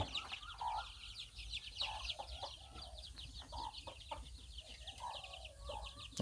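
Chickens clucking softly in a backyard coop where a hen sits on eggs, with scattered bird chirps over a low, steady background rumble.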